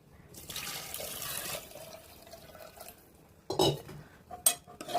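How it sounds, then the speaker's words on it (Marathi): Hot water poured into a pot of soaked chickpeas, a faint splashing trickle followed by a louder gush and a few metallic knocks of the vessel, quiet overall. "आणि आपण ह्याच्यामध्ये गरम पाणी ओतणार आहोत गरजेनुसार"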